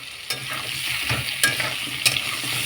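A spoon stirs pumpkin and sour shol fish curry with homemade amchur in a sizzling pan, soft continuous frying hiss broken by a few scraping strokes, close up with no speech.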